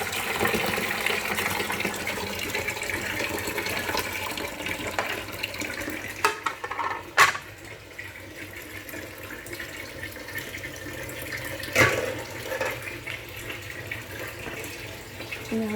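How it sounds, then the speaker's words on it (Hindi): Cold drink poured into a kitchen sink to clean it, a steady running, gushing liquid splash that continues throughout with a couple of brief louder clatters partway. "वो जब ये मैं कोल्ड ड्रिंक्स डाल के अच्छे तरीके से साफ़ करती हूँ"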